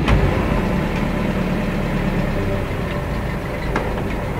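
Renault car engine idling without the choke, a steady low rumble with a few faint clicks, close and continuous with no voices.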